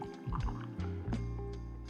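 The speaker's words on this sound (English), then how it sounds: "Pour it in." A flip or nog cocktail is poured from a strainer into a cup, giving a faint, short liquid splash and trickle with a few soft knocks.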